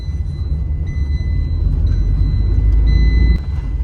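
Tata Tiago BS6 car fitted with a CNG kit and running on gas during a test drive, its engine a steady, loud low rumble throughout, with faint repeated beeps chiming over it and no talk.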